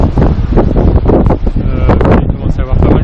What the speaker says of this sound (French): Il commence à avoir pas mal de vent, et du coup il y a pas mal de vagues aussi